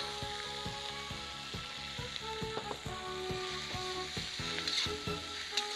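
Spinach stems stir-fried in hot oil with salt alongside Chinese sausage: a steady sizzle runs throughout, with regular scraping knocks of the spatula against the wok, close and fairly quiet, no speech.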